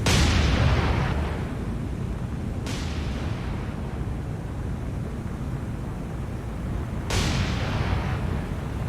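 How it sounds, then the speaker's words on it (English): Secondary explosions rip through a burning warship's magazine in the naval game War On The Sea: a heavy blast opens, then two sharp booms strike several seconds apart over a continuous low rumble of fire. "Cause all kinds of secondary explosions and everything."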